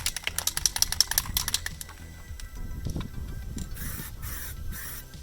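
Aerosol spray paint applied to a Nissan 370Z brake caliper in quick short bursts, close-up hissing and clicking at first, then softer rubbing and handling noises.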